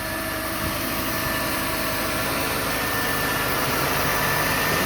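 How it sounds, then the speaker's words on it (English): A 1990 Mercedes-Benz 190E engine runs at idle, heard close as a smooth, steady, unbroken hum and hiss of even loudness throughout. "Okay, now I'm going to let you hear the car run."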